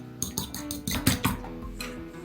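A whisk beating eggs with spices for batter clatters rapidly against a bowl in quick, uneven strokes, close and fairly quiet, with no voices.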